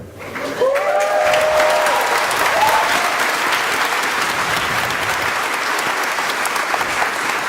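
A crowd at a high school graduation breaks into loud, sustained applause that swells quickly and holds steady, with a few cheers rising briefly near the start.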